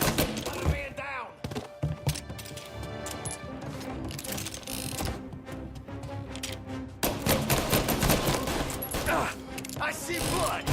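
Rapid gunfire from a Mafia video game firefight, clattering shots and mechanical weapon clanks packed densely throughout, loud and near, with voices in the mix.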